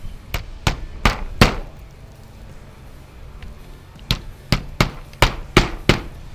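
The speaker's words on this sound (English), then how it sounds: "I like to put a nail here on the side to keep that flange on the side that's overlapping that bottom course tight" A hammer drives a nail into the metal flange of a roof-mounted intake vent: about a dozen sharp, close strikes in two quick bursts separated by a short pause.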